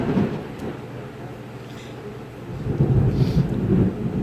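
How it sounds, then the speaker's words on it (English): Deep rolling thunder from a storm moving in, a low rumble that swells, eases off and then builds again with louder crackling peaks, with no voices. "We just had a storm move in."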